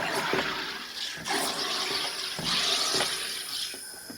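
Pressurized gas from a soda maker hisses and bubbles through water in a bottle in quick repeated bursts, a loud fizzing rush close by.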